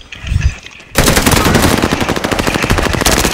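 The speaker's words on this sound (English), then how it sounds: "I'm just shooting guns over here." Automatic gunfire rattles in the video game Warzone, a brief lead-in followed by a loud, rapid, sustained burst of machine-gun shots that carries through to the end.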